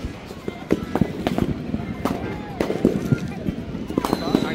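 Firecrackers and sky-shot fireworks go off at a Dadar festival, sharp cracks and pops repeating irregularly at mid distance over a busy outdoor crowd murmur.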